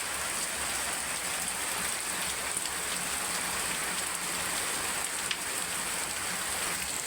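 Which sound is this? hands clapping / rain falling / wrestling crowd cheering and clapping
rain falling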